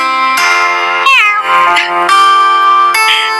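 A human voice imitates a cat, producing several drawn-out meows in a row, loud and close, each with a rising then falling pitch.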